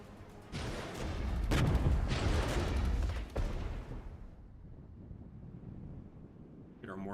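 Mortar fire in the Regiments Cold War real-time strategy game, heavy rumbling blasts and rolling booms building over a few seconds before fading into a distant low wash, with no talking over them.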